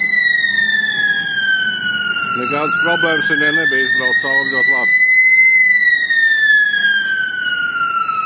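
An ambulance siren in Albania wails loudly and continuously as it passes through an intersection, its tone slowly rising and falling, while someone talks over it.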